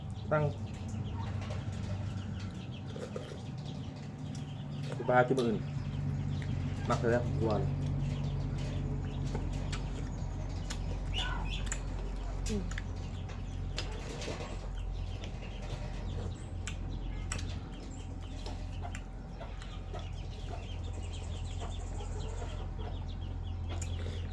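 Chickens cluck and squawk at a farmyard, with sharp calls scattered over a steady low hum and murmur of voices in the background.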